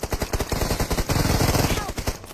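Rapid automatic gunfire from the mobile battle-royale game PUBG Mobile, loud and close, with dense bursts running through the whole stretch and a voice faintly underneath.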